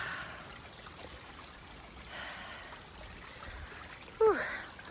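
A stream at a water crossing on an Appalachian Trail hike, heard as a faint, steady wash of flowing water with a short louder sound near the end.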